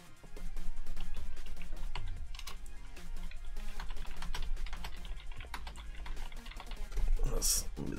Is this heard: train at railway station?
no